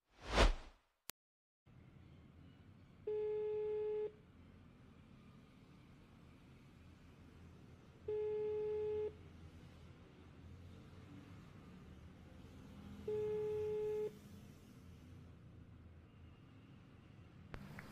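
Phone call tone in the game Sakura School Simulator: three steady, evenly spaced electronic rings, each about a second long, repeat over a hissing background after a sharp click, and no one answers.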